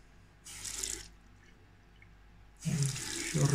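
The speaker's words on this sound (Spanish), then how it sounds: "Un chorrito de agua mínimo" A minimal trickle of tap water runs into a sink to cool glass drilling for an aquarium, heard as two nearby bursts of splashing flow with a quieter gap between them.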